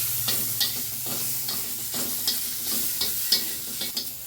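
Oil sizzles and spatters steadily in a pan as leafy greens are fried and stirred, with repeated scraping strokes of a utensil sounding close by and no voices.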